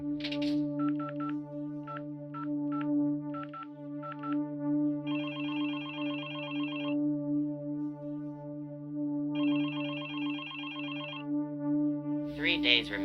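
Electronic ring tones pulse in repeated bursts over a steady hum, a phone ringing out on a call, several cycles of trilling beeps with brief pauses between.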